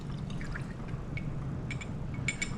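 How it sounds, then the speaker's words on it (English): Salt solution poured from a Buchner flask into a lab beaker, a steady soft liquid pour with faint dripping and small glassy trickles, heard close and quiet throughout. "So if I pour my salt solution into a beaker,"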